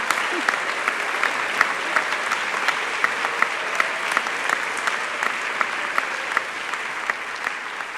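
An audience applauds steadily to welcome speaker Dr. Amy Bagby, a sustained wash of many hands clapping at even loudness for several seconds.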